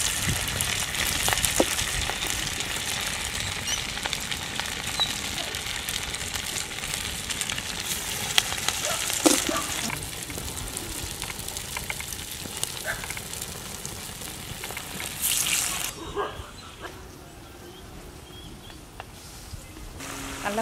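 Chicken vada frying in hot oil, a steady close crackling sizzle that runs throughout, with scattered pops and a brief scraping stir near the middle before the bubbling quiets slightly.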